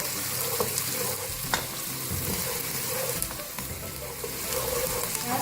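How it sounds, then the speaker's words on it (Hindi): Finely chopped large onion frying and being stirred in hot oil for a dal, a steady close sizzle with scraping stir sounds and occasional clinks of the utensil against the pan. "प्याज हमारा फ्राई हो चुका है"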